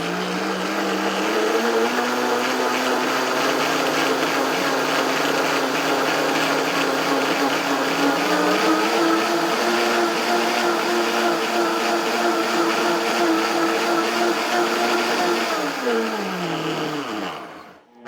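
A kitchen blender runs steadily for about seventeen seconds, mixing batter for homemade noodles, with a loud motor whine that shifts pitch partway through and then winds down at the end.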